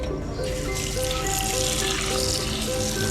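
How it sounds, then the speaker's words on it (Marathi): Hot water is poured out and cold water added for a few seconds, a continuous splashing flow into a vessel with faint clinking tones above it. "गरम पाणी आपण काढून टाकून थंड पाणी ॲड करून"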